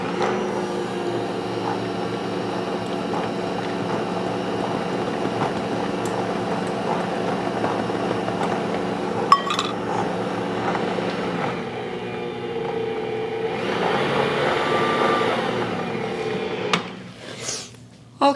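An electric mixer runs steadily, mixing pecans into brown sugar pound cake batter, a continuous close motor drone with a humming tone for most of the stretch before it shuts off amid a few clinks near the end.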